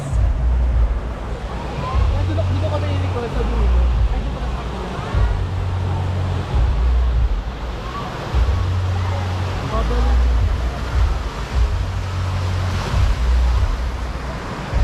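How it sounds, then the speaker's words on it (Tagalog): Ocean waves wash steadily and loudly, with a deep, pulsing rumble of wind or surf underneath and voices faintly present in the background. "The waves."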